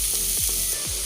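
Cabbage sizzles steadily in a frying pan, a close, continuous hiss with a few soft stirring scrapes through it.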